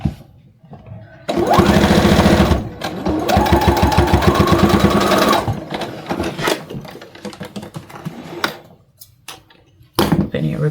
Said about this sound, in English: Then you're going to sew along that little line.